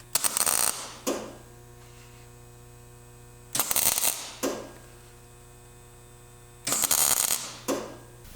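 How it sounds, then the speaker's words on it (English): An arc welder tacks spot welds onto a notch filler panel on a Mk4 Jetta hood, three crackling bursts of roughly a second each, evenly spaced, with a steady electrical hum running between them and no talking. "So as I'm welding this, I'm just gonna do a spot here"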